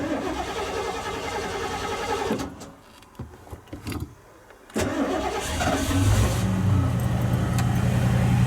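A carbureted car engine, set very lean and running on its choke, cranks and catches after the gas pedal is pumped, then settles into a steady, fairly loud close idle with no talking over it.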